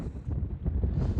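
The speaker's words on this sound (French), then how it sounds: "Ça souffle à 70 là, c'est quand même assez fort." Strong wind at 70 km/h buffets the microphone on a beach car park among dunes near Saint-Hilaire-de-Riez, with the sea behind; a dense, continuous low roar with gusty surges and no voices.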